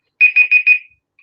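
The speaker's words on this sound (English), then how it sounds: "I was testing the timer" A timer alarm goes off with four quick, loud, identical beeps in an even rhythm, then a faint trailing blip, with silence around them.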